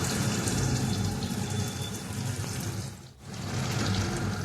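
Vinegar is poured into meat cooking in a pan, giving a steady close hiss of liquid that dips briefly for a moment before carrying on.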